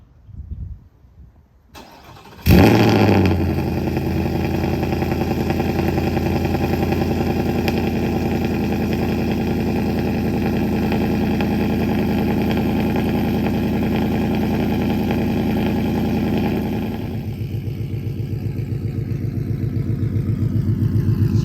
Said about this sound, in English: I'm about to show y'all a little cold start.